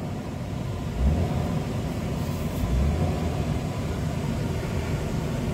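A Jeep engine rumbles steadily and fairly quietly, with two slight swells in revs over the low drone.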